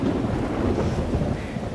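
Rain and a low thunder rumble in the video game Life is Strange: Double Exposure, a continuous dense patter with deep rolling rumble throughout, fairly loud and without voices.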